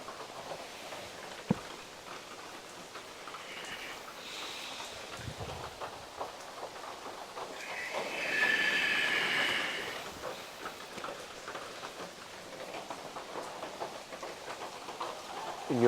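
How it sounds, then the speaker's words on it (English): Rain falls outside during a rainy week, heard from indoors as a faint, steady patter with a few soft thumps and a brief louder swell. "It's been raining all week."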